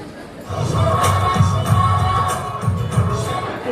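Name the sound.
audience cheering and applause at fashion show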